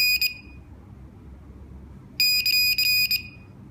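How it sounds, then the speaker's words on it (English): Sherlotronics S4 receiver emitting sharp, high electronic beeps in learn mode: one short beep, a pause, then a quick run of several rapid beeps, with a low background hum between. "The receiver will give you the same beeps as it did before."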